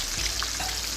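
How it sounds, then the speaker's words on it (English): Shrimp fry in hot oil with a continuous, dense sizzle and crackle, close and fairly loud throughout. "while those are frying"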